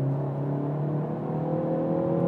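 A Peugeot 508 GT accelerates at full throttle in sport mode from about 80 km/h, its engine holding a strong, steady drone that rises slightly as the car pulls, heard from inside the cabin.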